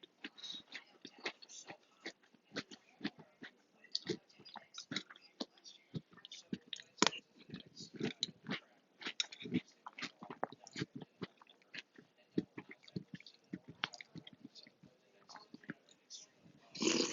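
Someone eats cereal up close, with crunchy bites and wet chewing clicks in a rapid, irregular stream, quiet overall, with occasional faint mouth noises.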